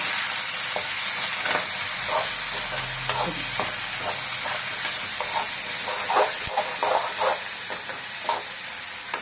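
Tomatoes sauté and sizzle in a pan for a South Indian prawn curry, a steady frying hiss with scattered crackles and occasional soft stirring scrapes, close and continuous with no talking.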